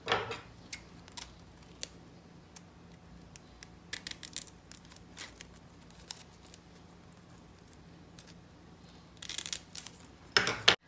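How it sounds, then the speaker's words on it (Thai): Scissors snipping through two ribbon strands during a handmade heart-shaped coin folding craft, with a few faint, quiet clicks and snips scattered through near silence and a louder burst of handling near the end. "ต่อไปให้เราตัดริบบิ้น2เส้นบนนี้ค่ะ"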